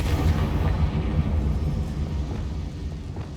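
In Hogwarts Legacy, a Confringo fire-blast spell explodes as a loud, booming rumble that stays heavy and sustained for several seconds before easing slightly.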